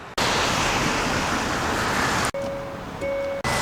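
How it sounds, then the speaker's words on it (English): Strong, steady wind roars outdoors in a snowy blizzard around a 2023 Hyundai Elantra Limited Hybrid, broken by a couple of brief dropouts and a few faint tonal beeps late on. "It is literally a little blizzard right now, as you guys can probably tell"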